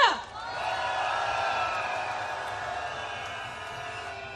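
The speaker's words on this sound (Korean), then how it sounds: "서로에게 박수 한번 쳐줍시다" Crowd at a candlelight protest rally applauding and cheering, a sustained, even roar of clapping and voices heard at a distance after a loud opening burst.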